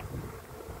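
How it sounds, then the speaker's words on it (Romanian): A turbocharged Nissan 370Z engine running on E85 revs hard twice in long rising pulls, pitch climbing each time before dropping off, loud and close, with a voice briefly at the end. "ce bate vântul"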